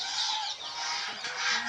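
Peruvidai chickens on a poultry farm cluck and call in a steady, overlapping chorus, moderately near with no talk over them.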